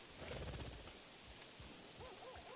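A horse in Red Dead Online gives a brief whinny near the end, with a wavering, rising-and-falling neigh after softer hoof and movement noise, quiet overall.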